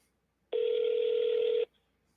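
A single telephone ring tone heard over speakerphone, one clean steady electronic burst lasting about a second, loud and isolated against near silence.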